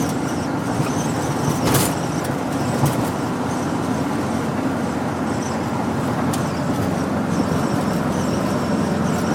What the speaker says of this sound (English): I'm going to give it as much gas as I can